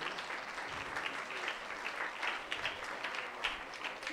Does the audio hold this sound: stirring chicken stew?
no